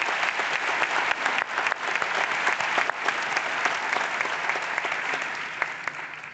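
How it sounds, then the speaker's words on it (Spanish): An audience at a cultural science forum gives a long, steady round of applause for a guest, dense clapping from many hands that holds evenly throughout and fades slightly toward the end. "Un aplauso para ella."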